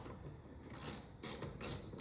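A socket wrench with a 7/32 socket backing a screw out of a truck mudflap, with quiet clicking ratchet strokes broken by a few louder metallic bursts, close by and without talk.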